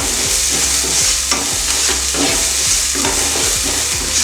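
Onions sizzle and fry in a pan with salt while being stirred for chicken spring roll filling, a steady close crackle with repeated scraping stirs throughout, no voices.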